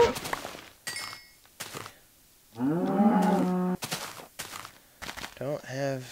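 Cows mooing in a Minecraft-style video game, a drawn-out low bovine call lasting about a second near the middle, set among footstep thumps and brief game noises, with no talk.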